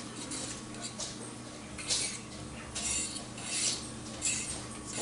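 Metal cutlery clinks and clatters in bursts while someone rummages through a kitchen silverware drawer, with a steady stovetop hum underneath; the clatter is close and moderately loud, coming in several irregular clusters.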